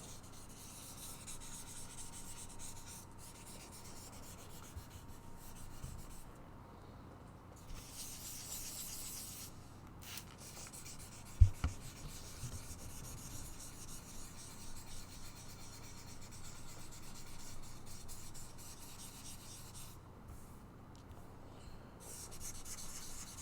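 A bevel being sanded by hand, a soft steady rasping rub that continues for a long stretch at low level with slight rhythmic variation, one brief knock partway through, in a quiet room.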